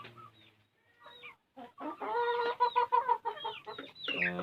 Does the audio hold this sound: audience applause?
no